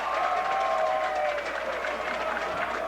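Crowd noise in the stands at a 1988 Western Final football game between SUN and Hilltops, a broad steady roar of distant cheering and applause with a faint whistle-like tone near the start.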